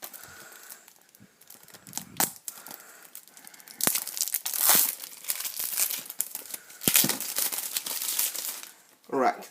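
A sticker is peeled off a PS Vita Ratchet & Clank Trilogy game case, giving close crinkly tearing and crackling in bursts with brief quiet gaps between pulls.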